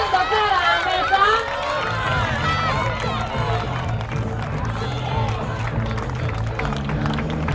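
Spectators at the finish line of the Travesía Concello de Poio applaud and cheer the leading competitors, a steady wash of crowd clapping with voices mixed through it.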